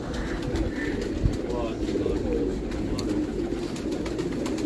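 A white female pigeon coos in low, steady murmurs over a continuous rustling background, with a brief knock partway through; people may talk faintly nearby.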